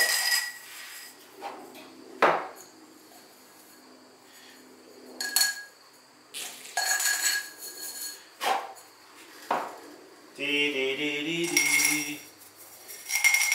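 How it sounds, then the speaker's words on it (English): Small brush dusting out pottery jam pots before glazing, giving soft intermittent brushing with clinks and knocks of ceramic pots set down, a harmonic ring near the end, no talking. "I'm just dusting these out."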